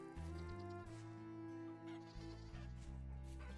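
Goat in the video game Vintage Story bleating repeatedly, a loud close series of wavering nasal cries following one after another with barely any pause.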